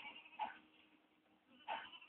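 Sheep in the Ratchet and Clank: Going Commando video game bleat twice, short nasal calls about a second apart over a quiet game background.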